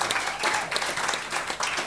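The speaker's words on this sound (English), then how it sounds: "give a big round of applause for Cookie" Applause from a live comedy club audience at a Fringe show, dense steady clapping filling the room for a couple of seconds with no voices over it.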